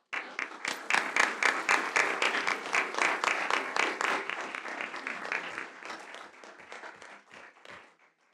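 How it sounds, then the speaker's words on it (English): Audience applause at a school board meeting, a loud, full round of many hands clapping that starts abruptly and gradually thins and fades into scattered claps at the end. "We can just get another big round of applause for"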